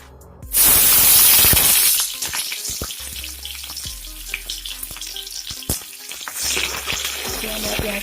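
Onions dropped into hot oil, left over from frying fish, burst into a loud hiss that settles into a steady sizzle broken by sharp stirring clatters, with no voices.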